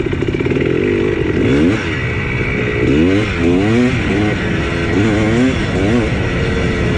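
An 1980s ATC250R two-stroke three-wheeler revving hard while ridden, its loud, close, raspy engine pitch swooping up and down in repeated throttle blips, with no talking over it.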